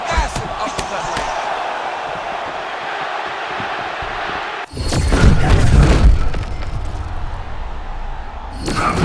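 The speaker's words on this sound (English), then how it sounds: "A massive uppercut land" A heavy uppercut lands in EA Sports UFC 6, a sudden loud thud that sets off a surge of roaring crowd noise after a stretch of steady arena murmur.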